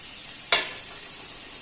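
Pirandai (adamant creeper) is sautéed in a pan for thuvaiyal, with a steady frying hiss, one sharp scrape of a spatula and a few faint stirring touches after it.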